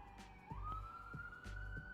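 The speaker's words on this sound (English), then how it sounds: "Oh, guys, we have a siren emote." A police siren from a stream emote wails steadily, its tone rising and holding over a repeating rhythmic pulse, loud and alone with no talking.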